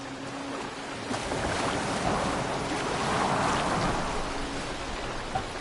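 A boat sails over waves in the Assassin's Creed Valhalla video game, with a broad, steady wash of water and spray that swells gently and stays dense throughout, no voices.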